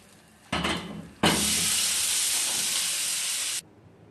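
Hot ghee poured over cinnamon sticks on Kashmiri hareesa gives a brief crackle, then a loud, steady sizzling hiss that holds for about two seconds and cuts off sharply. Nobody speaks.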